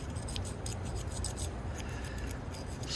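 A blade scraping out the inside of a vintage bone-handled Kutmaster pocket knife, a close, steady gritty metallic rasping with a few sharper scratches, and no talk.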